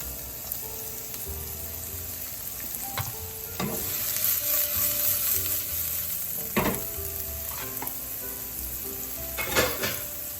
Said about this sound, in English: my onions are active, which means I can throw them in the pan and start cooking them